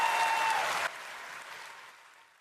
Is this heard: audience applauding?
yes